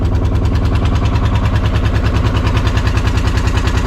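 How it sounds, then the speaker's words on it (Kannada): A boat engine runs on a narrow, forest-lined backwater creek near Honnavar, producing a loud, close, steady chugging throb with a fast regular pulse and no voices. "ಹಿಂದೆ ಒಂದು ಬೋಟ್ ಬರ್ತಾ ಇದೆ"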